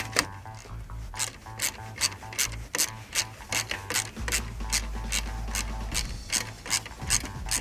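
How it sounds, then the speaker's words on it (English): A ratchet wrench turns a belt tensioner bolt on a 2002 Subaru in a quick run of sharp metallic clicks, up close and even, over a low engine-bay hum. "first you loosen up this bolt right here"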